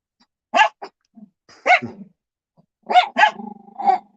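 A dog barks several times in short, irregular bursts, some single and some doubled, ending with a lower growly bark, fairly close and clear.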